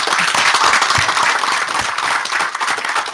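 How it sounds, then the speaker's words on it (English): Audience applause following a talk at a community presentation event, a dense, steady wash of many hands clapping at fairly close range, sustained at even loudness for a few seconds with no voices over it. "Big round of applause."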